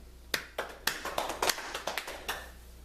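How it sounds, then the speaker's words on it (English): Hand claps from people at a Buddhist teaching session: about a dozen sharp, fairly close claps in an uneven, loose rhythm over a quiet room, with no speech. "everybody, clap your hand."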